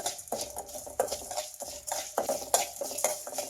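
Cloves and cumin seeds frying in a pan for drumstick sambar, with a spoon scraping and tapping against the metal in a quick irregular rhythm over a faint sizzle, close up and with no talking.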